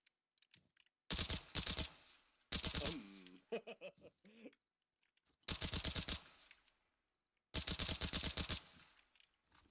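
Gunfire in a military video game rings out in four dense automatic bursts, each about a second long and separated by short gaps, loud and close. A brief voice is heard between the bursts.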